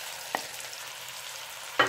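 Mushrooms and zucchini sauté in a pan with a soft, steady sizzle, broken by two sharp stirring scrapes, one early and one near the end, quiet and close with no talking.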